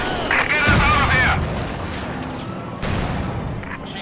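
Artillery fire and gunshots crash through a Company of Heroes 2 battle on the snowy Rzhev winter map, with booming thuds at the start and again near the end. Voices shout over the battle noise.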